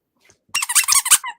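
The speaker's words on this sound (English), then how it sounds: "every single time you heard that squeak, yeah, Bees actually has a squeaker on him" A squeaker toy gives a rapid burst of several sharp, high-pitched squeaks, close and loud, with no talking.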